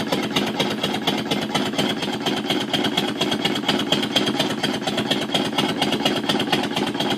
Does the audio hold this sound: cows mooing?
no